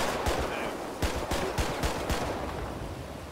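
Gunshots in GTA 5, a quick series of about half a dozen sharp shots fired in an uneven burst over a noisy background.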